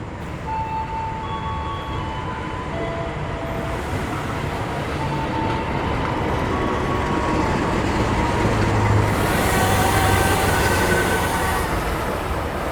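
An INKA CLI electric commuter train rumbles steadily along the track into a station in Probolinggo, with a continuous low roar and faint wheel squeals, growing slightly louder as it pulls in.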